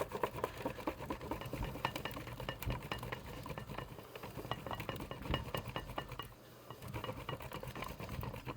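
A frozen stick of butter scraped across a grater, a rapid run of rough, scratchy strokes with light metallic clinks, close and fairly quiet, briefly pausing before it resumes.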